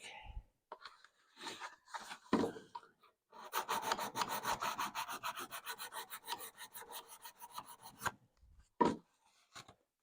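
Fine sandpaper rubbed by hand over model airplane tail parts, a quick rhythmic rasping burst of strokes in the middle with a few isolated scrapes and taps around it, close and quiet.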